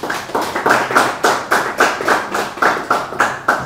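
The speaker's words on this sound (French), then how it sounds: "Ça s'applaudit." Hands clap in a steady, even rhythm of about a dozen loud, close strikes, sounding like a few people clapping together in time rather than a large audience.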